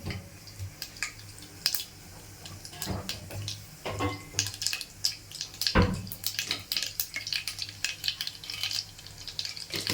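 Steady crackling and spitting of mustard seeds and cumin in hot oil, close by, with irregular louder pops and clatters scattered throughout.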